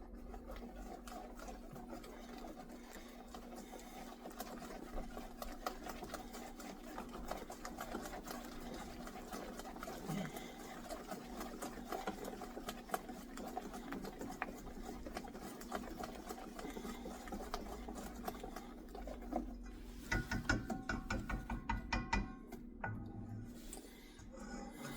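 An electric mixer whirs steadily as it beats an egg into marble cake batter, a constant close motor hum with faint rattles and bumps against the bowl.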